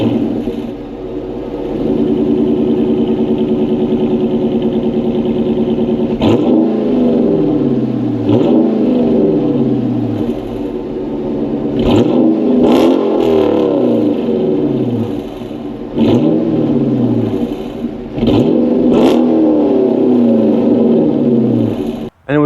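Dodge Charger Hemi V8 engine idling with a steady rumble, then revved several times in a row, each sharp rise to a roar falling back to idle, loud and close with no talking.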